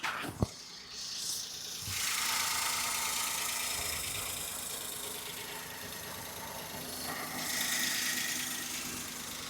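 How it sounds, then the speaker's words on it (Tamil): A petrol engine of a 2011 Maruti Suzuki WagonR idles steadily up close, a continuous mechanical hum with a rattly texture, after a brief click at the start. "வண்டியோட இன்ஜின் சவுண்ட் எப்படி இருக்குன்றத மைக்கை பக்கத்தில் வச்சு காட்டுறேன்"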